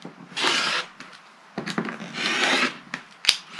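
A rotary cutter slices along a ruler to trim the edge of quilt fabric, giving two soft scraping strokes with light taps and handling noises between them, close by and fairly quiet.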